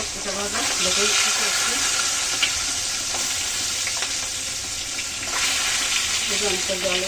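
Fish frying in hot oil seasoned with turmeric, a steady close hiss and crackle of sizzling with faint stirring scrapes and small pops throughout.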